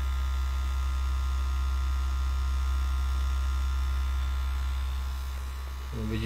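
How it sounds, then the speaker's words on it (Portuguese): A small motor in a miniature Fiat Palio car runs with a steady electric hum and buzz throughout, fairly loud and unchanging, dipping slightly near the end as another sound cuts in. "O motorzinho do Palio funcionando aí, ó."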